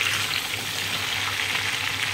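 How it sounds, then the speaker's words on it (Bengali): Fresh raw mango pieces fry in hot oil for a pickle chutney, a steady close sizzle with soft stirring and no talk. "এবার ভাজা হচ্ছে আমগুলো, ভালোভাবে ভাজা হোক"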